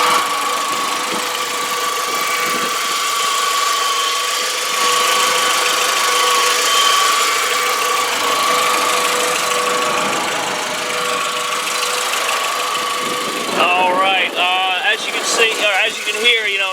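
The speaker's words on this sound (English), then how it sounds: "So what I'm going to do is just be quiet and let you listen to the motor." A 2002 Volkswagen Beetle GLS coupe with a 2.0 four-cylinder engine idles steadily in a continuous mid-pitched hum, with a voice coming in over the engine near the end.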